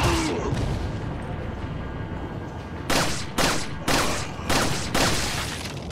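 Gunfire in Resident Evil 4, beginning with a dense stretch of sustained shooting, then a run of about five separate heavy blasts spaced roughly half a second apart, loud and close.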